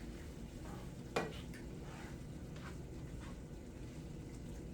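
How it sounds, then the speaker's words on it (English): A skillet of boiling green beans with melting cream cheese is stirred, a soft bubbling sizzle under one sharp scrape of the utensil followed by quieter stirring sounds. "So I'm going to stir."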